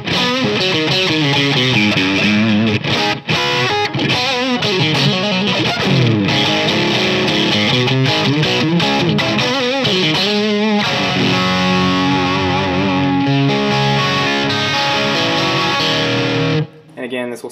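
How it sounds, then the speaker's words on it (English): Single-coil electric guitar played through a Wampler Black '65 overdrive pedal, a loud, continuous stream of lightly driven chords and riffs with a brief pause near the end. "Which makes it really great for when you're doing the sort of single coily sounds like this."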